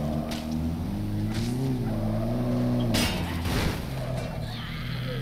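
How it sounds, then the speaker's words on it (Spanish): A rough, struggling car engine in the video game Dead Rising 3 drones with wavering pitch for about three seconds, then breaks into clattering bursts and scraping noise before settling into a lower hum. "Madre mía, cómo suena este coche, parece que está condenado"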